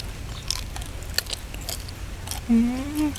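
Someone eats crispy grilled pork intestine, served with a spicy Thai bean salad, close to the mic. A series of sharp crunchy bites and chewing crackles is followed by someone talking at the end.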